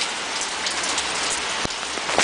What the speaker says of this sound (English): it's raining and it's hailing